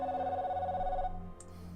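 Video phone ringing in the Broken Sword game, a steady electronic trill repeating for about a second before cutting off, with faint background tones continuing after.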